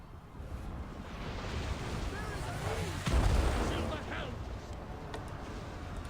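Massed units firing during a battle in Total War Warhammer 2, a dense, continuous roar of fighting with a heavier burst of fire near the middle that then settles back into steady battle noise.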